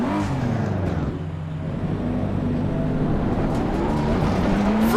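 Race car engine in the sim racing game Assetto Corsa Competizione, droning steadily loud for the whole stretch with shifting revs and gear changes, no talking.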